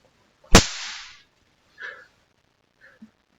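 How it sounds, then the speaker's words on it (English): Snap pop rocks coated in silver fulminate go off with one sharp, loud crack followed by a short hiss, then two fainter pops spaced about a second apart. "And then what causes the popping is when the coating of the two rocks grinds together and the pressure is released."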